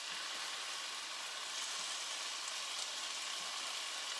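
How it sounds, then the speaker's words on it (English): Steak and shrimp sear in a very hot pan, giving a steady, close, continuous sizzle with a bright hiss that holds evenly throughout, with no talking. "Hear that sizzle? And that's what I want. Sear these things. The pan is really hot."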